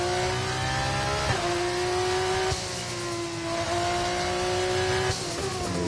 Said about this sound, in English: You can see Kent warming up the tyres.